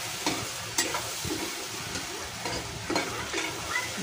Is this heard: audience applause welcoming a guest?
no